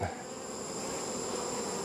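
Honeybees hatching on a hive frame, a dense, steady buzzing drone of many bees close by, continuous and even throughout.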